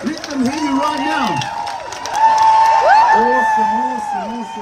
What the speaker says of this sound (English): Come on, I want a nice shout. Let them hear you right now.